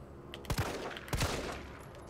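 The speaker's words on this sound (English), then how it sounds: "I love how you missed that first shot." Gunfire in the survival horror game Resident Evil 3, with two sharp gunshots about half a second apart standing out over a busy game soundscape, and no talking.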